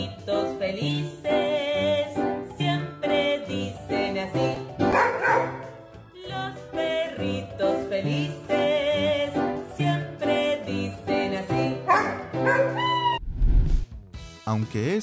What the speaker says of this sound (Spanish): Los perritos felices.